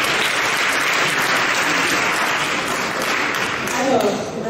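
An audience at a Téléthon charity gathering in Saint-Maur applauds a theatre troupe, a thick, even wash of many clapping hands held for several seconds, swelling slightly near the end.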